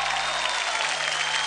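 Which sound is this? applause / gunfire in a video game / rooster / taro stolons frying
applause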